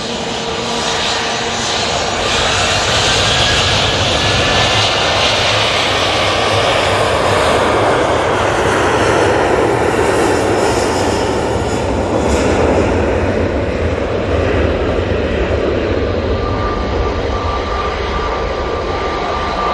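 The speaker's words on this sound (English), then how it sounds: "And the Ryanair to Dublin is now coming on." A Ryanair jet airliner departing for Dublin roars loudly and steadily at close range, a broad sustained engine rush that swells through the middle and holds strong throughout, with no talk.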